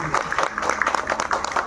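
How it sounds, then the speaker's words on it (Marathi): Clapping from a gathered group of students and guests at a school birthday greeting for Trisha, a steady dense patter of many hands, moderately near, with some voices mixed in. "सगळ्यांनी टाळ्या वाजवायच्या आहेत"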